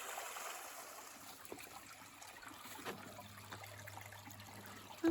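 A stream with waterfalls runs along a hiking trail in Maine's 100 Mile Wilderness, a soft, steady rush of flowing water heard alone at low level.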